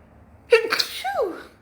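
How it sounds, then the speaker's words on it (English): A single close sneeze, a sharp intake followed by an explosive burst that trails off quickly. "So I sneezed, that's confirmation."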